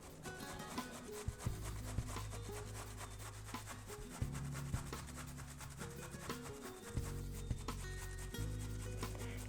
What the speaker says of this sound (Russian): Обрежьте у кабачков попки и натрите на крупной терке.